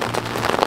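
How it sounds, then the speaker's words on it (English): Steady rain patters on a surface nearby at an Ozarks campsite, a dense even hiss with scattered drops. "I'm sure you realize it has started raining"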